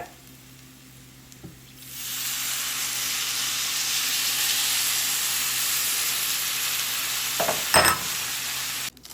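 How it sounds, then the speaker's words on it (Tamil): Eggplant curry with tamarind sizzling loudly in a frying pan, the hiss swelling suddenly after a short quiet start and holding steady, with a few scraping stirs near the end. "பழப்புளியை விட்டு ஒரு பிரட்டி பிரட்டி விட"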